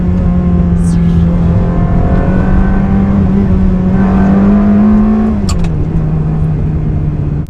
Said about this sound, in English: Got a bend coming up, downshift.